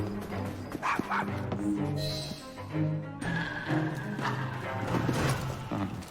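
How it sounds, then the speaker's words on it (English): Dog barking in the video game Assassin's Creed Syndicate, a few yips and woofs mixed into a dense, continuous bed of music and game ambience. "Bad dog!"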